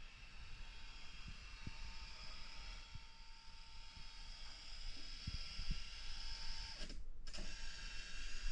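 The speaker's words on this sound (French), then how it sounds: "La page va être scannerisée." A reading machine for the blind runs its page scanner with a steady mechanical hum and whir, scattered faint clicks along the way, and a short gap near the end before the motor noise resumes.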